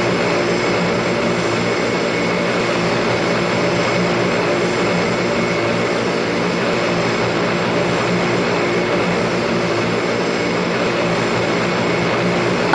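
A turboprop plane engine droning during an emergency landing, a steady, loud, even roar with a sustained hum and no pauses, heard close with no voices.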